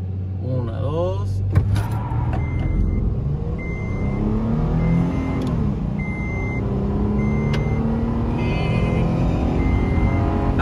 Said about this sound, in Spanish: Aquí vamos a medir el 0 al 100 de la camioneta en stock